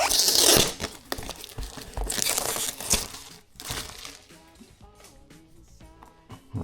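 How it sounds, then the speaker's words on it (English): A toothpick tears open the plastic wrapper on an OSRAM 50W LED headlight bulb package, with loud bursts of crinkling and ripping up front that ease into quieter, scattered rustles. "I'm using a toothpick here to cut open the plastic wrapper"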